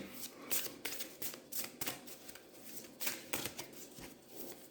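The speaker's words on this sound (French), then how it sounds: "je vais tirer la dernière carte, celle qui conclut le tirage" A card drawn from a deck during a tarot-style reading, heard as soft papery slides and flicks, close and quiet, repeating in short bursts.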